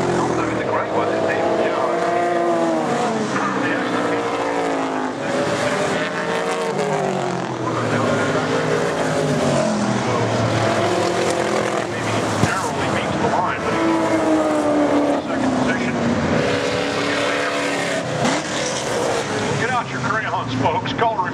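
V8 race cars, among them a TVR Tuscan, howl around Brands Hatch in a continuous, loud roar of engines rising and falling as they pass, with a commentator talking over the racing throughout.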